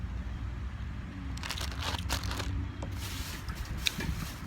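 A small plastic bag crinkles and rustles close by during an outdoor green-lipped mussel mukbang, soft irregular crackles in short bursts over low background noise.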